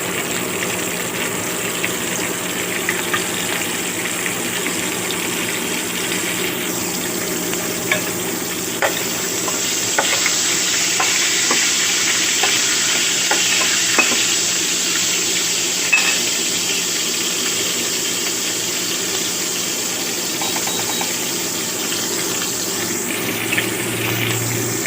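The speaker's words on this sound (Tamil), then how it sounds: "எண்ணெய் நல்லா சூடான வாட்டி கடுகு கொஞ்சம் தாளிக்கிற மாதிரி இருந்தாலே" Mustard seeds sizzle and crackle in hot oil during tempering, a loud, continuous frying hiss with scattered pops and spits that lasts throughout.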